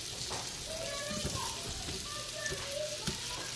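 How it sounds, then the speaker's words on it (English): Beef stew meat browns in a Power Quick Pot, a steady close sizzle and crackle throughout with light stirring knocks, while someone talks over it. "I need to brown the beef stew meat"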